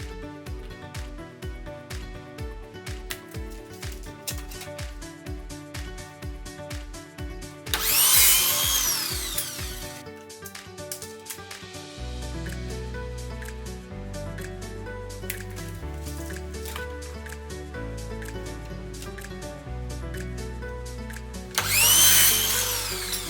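A power tool cuts pairs of wooden lengths at once for a fluted dresser makeover, heard as two short loud rasping bursts over a steady tonal background.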